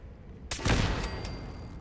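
Turret gunfire in the video game Fallout 4: a sudden burst of rapid automatic shots breaks in after a quiet start, then keeps rattling on loudly at a steady pace.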